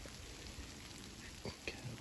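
Rain falls steadily in a wooded spot beneath a tree during a wet walk in cloud, a constant close hiss of patter with a few louder drops standing out.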